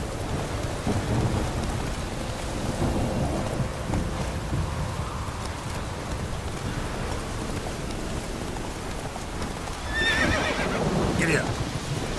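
Rolling thunder in a rainstorm from The Witcher 3, with steady rain hiss throughout and a louder crack and rumble near the end, mixed with horse whinnies and game voices talking.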